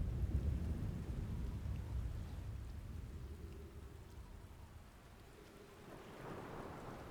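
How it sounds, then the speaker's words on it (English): A storm in the video game Outer Wilds: steady rain patters over a deep, heavy rumble of thunder that fades in the middle and swells again near the end, with no voices. "A storm?"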